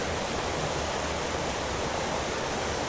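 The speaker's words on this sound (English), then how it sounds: "I've made it to the first waterfall you can see behind me here." Waterfall in woodland at Craflwyn, Beddgelert, North Wales, a constant broadband rush of falling water, close and steady with no breaks.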